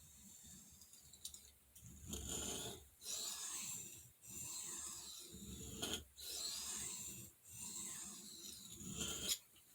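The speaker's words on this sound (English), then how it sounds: "You're pulling it along the stone, and you're lifting it up around that curve. But you're also honing on the back stroke." Knife blade drawn along a sharpening stone, honing on both the push and back strokes: repeated gritty rasping strokes of about a second each, separated by brief pauses, close and fairly quiet with no talk.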